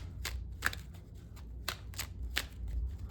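Tarot cards riffle in several quick shuffles, each a short crisp burst of fluttering snaps, with a soft low rumble in the background between them.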